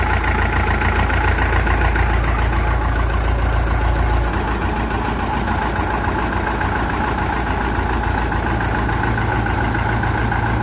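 A Claas SF combine's engine idles in a steady, loud low rumble that continues evenly throughout, with a slight shift in tone partway.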